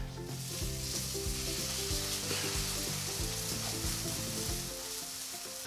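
Vegan pancake batter frying in a batter ring on a hot pan, a close, steady sizzle with no talking over it.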